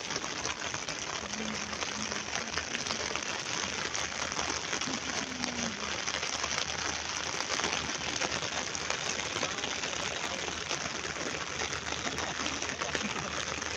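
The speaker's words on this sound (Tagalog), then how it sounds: "Hala, lumakas na yung ulan." Heavy rain pours steadily in a Chinese garden, a dense continuous hiss of drops spattering on surfaces, with a faint voice briefly audible beneath it.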